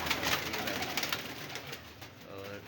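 Pigeons cooing, including gold and teddy breeds, in soft repeated low coos close by, with someone talking over them.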